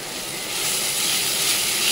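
Onion, ginger and garlic frying in a pan, a steady close-up sizzle and hiss that swells slightly louder after the first half-second and holds without talk.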